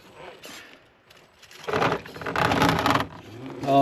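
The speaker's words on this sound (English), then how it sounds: "scraping and rubbing and banging all over the place" Scale RC truck, an FMS FCX10 Toyota Land Cruiser, scraping, rubbing and knocking on rocks in short gritty bursts, a quiet rasp building into louder grinding scrapes, then a voice briefly at the end.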